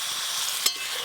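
Turmeric powder going into a sizzling pan for a tangy hilsa roe curry, a soft steady fry hiss with a single sharp stirring scrape near the middle, no voices.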